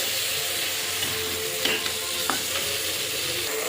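Fried rui fish sizzles in spicy masala in a pan as it is stirred, giving a steady close hiss with a few light scraping touches.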